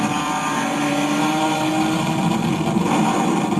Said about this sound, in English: You can hear his exhaust.